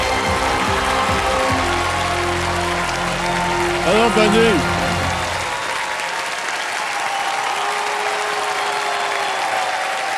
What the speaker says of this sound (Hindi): तालियां सुना लीजिएगा।